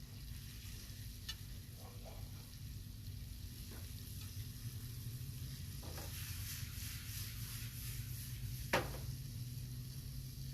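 Vegetables frying in a pan with turmeric and chili powder, a steady soft sizzle with a few sharper stirring scrapes and clinks, fairly quiet and close, no voices.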